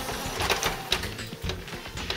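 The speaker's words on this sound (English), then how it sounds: "press the start button over here, and your printer will go through the process of printing the sheet." Epson Stylus Photo RX520 inkjet printer running off a nozzle check sheet: continuous mechanical whirring and rattling of the print head shuttling back and forth, with steady rhythmic pulses close by and no talking.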